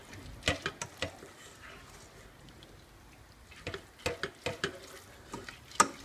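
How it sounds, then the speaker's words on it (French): Soaked lentils for a Moroccan dish with tomatoes and onion are stirred in a pot. A spoon knocks and scrapes in quick bursts at the start and again later, over a faint background, fairly close. "je mélange le tout"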